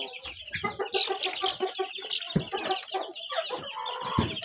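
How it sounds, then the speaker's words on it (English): Young chicks in a brooder cage on a farm, with continuous overlapping cheeps and clucking chatter from many birds at close range. "these are the chicks from the other side"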